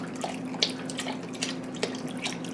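Water poured from a container into a slow cooker, a soft close trickle with small splashes and drips over a couple of seconds.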